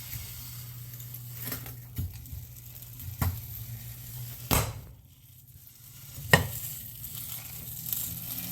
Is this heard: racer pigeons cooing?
no